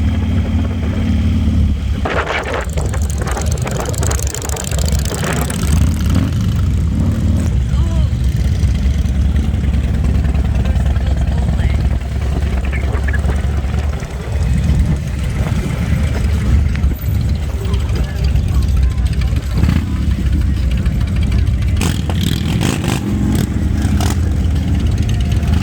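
Motorcycles rumble and idle steadily along Main Street during Daytona Beach Bike Week 2021, a dense, continuous engine drone with occasional revs, mixed with background voices.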